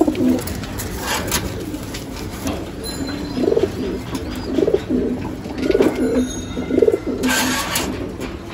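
A pair of highflyer pigeons, of a vegetable racer line, coo together in a loft, giving about five soft rhythmic coo phrases a second apart, close by, with faint chirps and some background noise.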